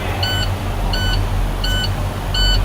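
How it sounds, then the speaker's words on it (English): A vehicle's low air pressure warning alarm beeps in a steady repeating pattern, four short tonal double-pulses about every 0.7 seconds, loud and close over a low idling engine hum. "alarm's going off, lights are on"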